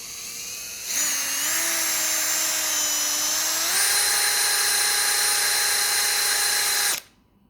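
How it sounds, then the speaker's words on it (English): A power drill whines steadily as it spins a GX200 small engine for an RPM sensor test, its pitch stepping up partway through before it cuts off abruptly. "Give the drill a bit of a spin."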